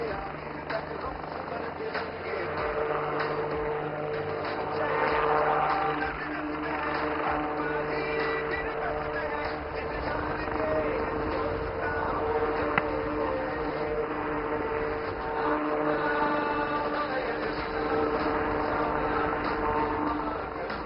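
An HAL LUH light utility helicopter performs a flying display at Aero India in Yelahanka, Bangalore, its rotor and engine drone steady and moderately distant under a public-address announcer's voice throughout.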